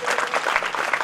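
Audience clapping at a tehsil-level Prajapati community talent felicitation ceremony in Bidasar, a steady burst of applause from a crowd, filling the short moment on its own.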